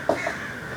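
A crow gives one short caw outside a house, with a fainter second call just after, both set against steady background noise.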